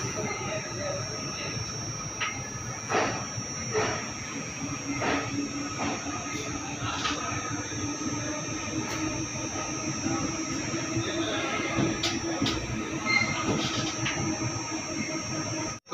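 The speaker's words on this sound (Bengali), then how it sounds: "আমাদের ট্রেন ছেড়ে দিল মালদা টাউন স্টেশন থেকে" The 15722 Paharia Express pulls out of Malda Town station with a steady rumble of wheels on rails, occasional squeals and metallic clanks, heard from inside the coach under faint murmuring.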